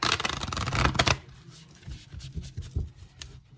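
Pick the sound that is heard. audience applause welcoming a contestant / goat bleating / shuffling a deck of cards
shuffling a deck of cards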